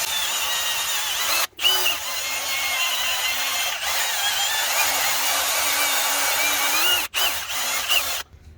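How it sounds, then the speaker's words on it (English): A power-driven wire brush cleaning the hub of a 2016 Nissan Juke front wheel, a loud whirring grind that runs steadily with two short cutoffs and a slight pitch wobble as it bears on the metal. "we're gonna go ahead and use the wire brush to clean up our hub"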